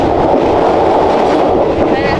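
Passenger train rolling through Thailand, heard from inside a carriage as a loud, steady rumble and rattle of the moving cars, with voices speaking over the continuous noise.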